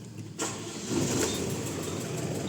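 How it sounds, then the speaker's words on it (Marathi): Mahindra Furio truck engine cranking and catching, a short starter burst followed by the diesel settling into a steady, moderately loud idle with no talk. "तर मित्रांनो महिंद्रा फ्युरो चालू करतोय आपण आता।"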